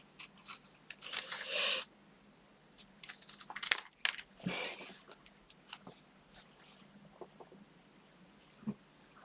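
Scissors snip around a paper card during card making, a few quick crisp cuts in bursts with paper rustling and handling noises between them, fairly close and alone.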